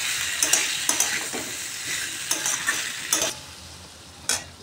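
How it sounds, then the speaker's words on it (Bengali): Spice masala sautéed in a pan for a vegetarian okra and potato curry, with a steady close sizzle and repeated sharp scrapes of a spatula stirring at an irregular rhythm. "মশলাটা আমি একটু কষে নেব ভালো করে।"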